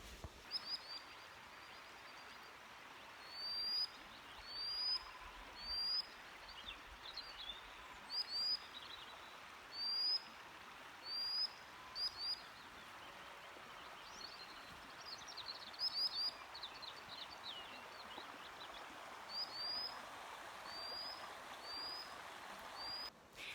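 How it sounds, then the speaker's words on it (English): Faint birdsong drifts over a quiet riverbank backdrop, with repeated short, high chirps and calls from several bird species spaced through a calm evening ambience. "you can hear just how many species of birds are along the riverbank right now"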